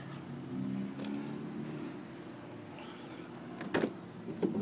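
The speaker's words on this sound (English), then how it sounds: "The power rear sliding window." A power rear sliding window on a 2010 Dodge Ram 1500 pickup runs with a steady low electric motor hum for several seconds, ending in a couple of faint clunks as the middle pane stops.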